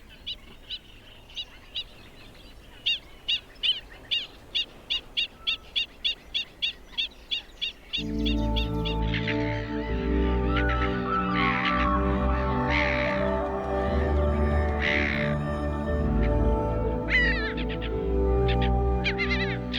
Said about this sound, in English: they vigorously and loudly defend the airspace around their nests